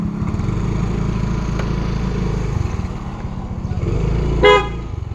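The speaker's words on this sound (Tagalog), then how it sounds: "Ba't mo busina ka na?" A car horn gives one brief honk near the end, cutting through a steady, loud engine rumble inside a moving vehicle.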